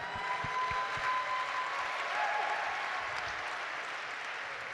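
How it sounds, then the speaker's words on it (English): Applause from a gala audience at a grants event, a steady dense wash of many hands clapping together, moderately distant and fairly quiet, with no talk over it. "Can we give him a round of applause as well?"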